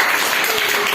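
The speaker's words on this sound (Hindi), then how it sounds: "सब लोग ताली बजा दो।" An audience applauds at the end of a school play performed by fourth-grade children, a short burst of many hands clapping together, loud, dense and continuous with no voices over it.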